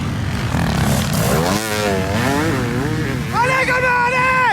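A 500 CR motocross bike crackling and revving on a black-sand enduro course, its engine note rising and falling in wavering sweeps before a sharp climbing rev, with a commentator's shouts over it.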